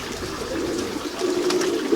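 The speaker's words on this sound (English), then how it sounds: "this is my pigeon coop. I have almost, I want to say about 250 pigeons inside of here." Pigeons cooing inside a backyard coop housing about 250 birds of several breeds, including Birmingham rollers; a soft, steady murmur of overlapping coos close by, swelling slightly toward the end.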